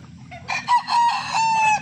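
A pure Gilmore Hatch gamecock rooster crows once, close and loud, in a full drawn-out call of nearly two seconds with no talking over it.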